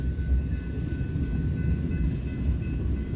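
A steady, loud rumble as the rear end of an eastbound Union Pacific freight train passes nearby, with continuous rolling wheel noise and faint rail clatter, and no voices.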